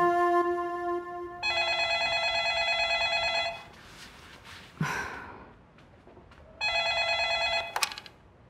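Telephone ringing with an incoming call in an Uzbek drama serial, two bursts of bright trilling electronic rings separated by a quiet gap with a short sigh, fairly loud and close.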